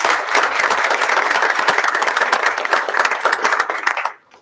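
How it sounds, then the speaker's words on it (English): Applause from an audience at a school district board of education meeting, steady crowded clapping that carries on for several seconds before stopping abruptly. "Let's give those ladies a round of applause."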